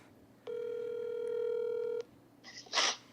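An outgoing telephone call ringing back: one steady electronic ring tone lasting about a second and a half, then a short burst of faint handling noise.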